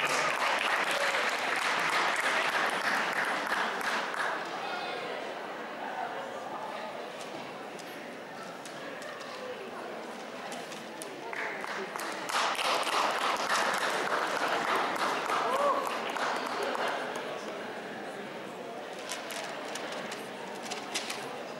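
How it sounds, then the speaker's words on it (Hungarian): Audience applause at an award ceremony for Dance Dance Revolution winners, a sustained crowd clapping that swells and eases over about twenty seconds, heard at moderate loudness from the hall. "Neki is nagy tapsot!"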